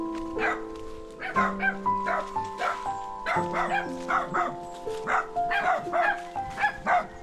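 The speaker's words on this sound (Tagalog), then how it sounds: "Mga aso." Dogs at a house in the Philippines bark and yip in quick irregular bursts, fairly close, with a steady musical tone running underneath.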